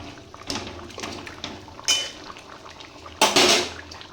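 A spoon stirs fish heads into dal in a metal pot: soft liquid sloshing with a few sharp scrapes and clanks of utensil against pot, fairly quiet and close.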